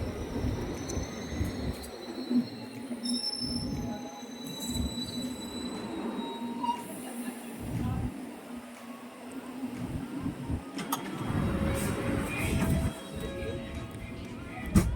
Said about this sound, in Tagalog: Mind the gap between the train and the platform. This is Finchley Road. This is a Metropolitan Line train to Aldgate.